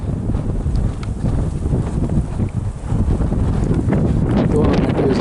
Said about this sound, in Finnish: On aika tuulinen päivä. On pohjoistuuli.